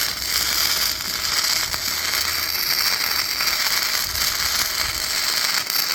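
Gasless flux core welding with a bestarc MIG 145 welder, a loud continuous crackling buzz with sputtering spatter pops that holds steady throughout, close up and without talk.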